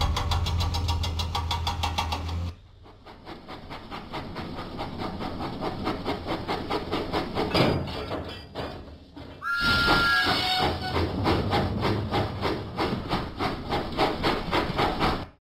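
Video game engine sounds from a Thomas the steam engine train, a steady rhythmic chugging rumble with music-like tones, broken by a short quieter stretch and a bright chime partway through.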